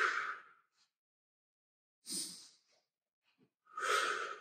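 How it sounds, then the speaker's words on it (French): Deep breaths in and out during a Pilates exercise, three distinct airy breaths separated by near-silent gaps, close to the microphone. "On inspire vers les côtes, on expire."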